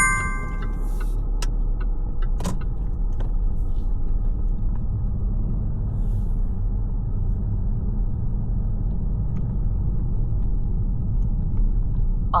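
An instructor-driven mock driving test car pulling away: steady low engine rumble and road noise throughout, with a few faint clicks and a brief ding near the start, no talk.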